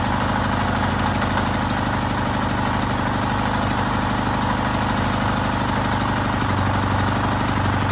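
A gas generator engine running steadily after a pull-cord start, a loud, continuous mid-pitched idle drone with knocking vibration that holds steady and close throughout.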